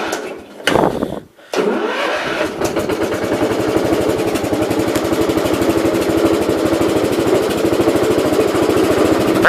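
Gravely riding mower tractor, a 1969 Gravely 432, cranks briefly with a couple of sputters, then catches and settles into a loud, steady, close-up chugging idle that runs on with an even rapid beat.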